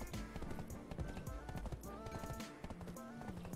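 Horse hooves in the online game Black Desert Online, a quick clip-clop of several horses over game music and effects, steady and fairly faint throughout.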